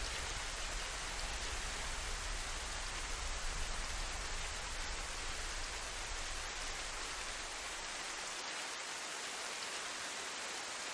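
Steady, dense rain in the DayZ Livonia game world, a continuous even hiss of falling drops that stays loud and unbroken throughout, easing slightly in the low rumble toward the end, with no voices.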